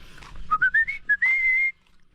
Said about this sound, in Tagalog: Ayun na narinig na naman ang sipol ni Papa